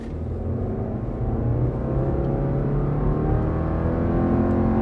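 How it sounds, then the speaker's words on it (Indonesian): A 2023 Subaru Outback's boxer engine rumbles steadily under acceleration, a loud, continuous low growl with rising harmonic tone heard from inside the car, with no talking. "Suara rumble dari mesin boxer itu memang khas sekali ya."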